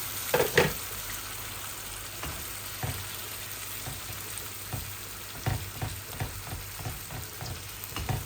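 Chital fish curry cooking in a pan as gravy is poured in, a continuous sizzle and bubbling with scattered stirring and scraping knocks, no talking.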